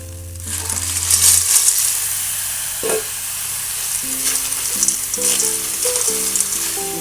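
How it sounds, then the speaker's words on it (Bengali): Snails fried in a pan with turmeric and salt produce a loud, close sizzle with scraping stirring sounds and a brief clatter, steady throughout. "শামুক দিয়ে কষাতে থাকবো।"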